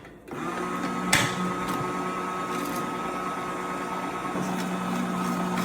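A TUUMIIST juicer switches on and runs with a steady motor whine and hum, near and even, with a sharp clunk early on and faint knocks as produce is fed in.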